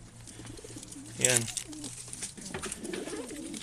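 Pigeons being loaded into crates for road training in Ripon, California, cooing and fluttering close by while someone talks over them.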